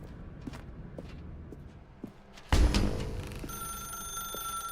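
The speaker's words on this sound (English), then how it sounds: "Now pick up the phone." A telephone in the video game The Stanley Parable starts ringing with a sudden burst, then keeps up a thin electronic ring after quiet footsteps and shuffling. It sounds close and moderately loud.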